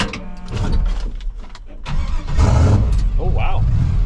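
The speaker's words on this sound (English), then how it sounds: "Usually it cranks over a couple of times and you can hear the dead hole, but that's actually the best it started up." A 1965 GMC truck engine cold-starting, cranking briefly before catching and settling into a rough idle, close and loud, with people talking over it.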